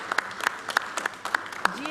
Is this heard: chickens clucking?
no